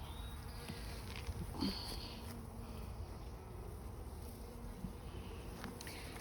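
A soft, steady buzzing of many bees hums throughout, quiet and close, with no voices.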